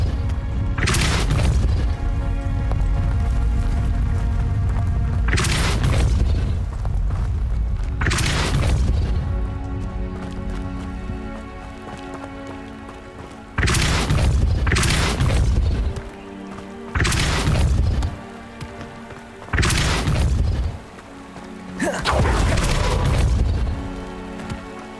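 Repeated Depulso spell blasts from Hogwarts Legacy played on PC, loud booming bursts arriving every few seconds over a constant heavy rumbling backdrop, with brief drops in the background between later blasts.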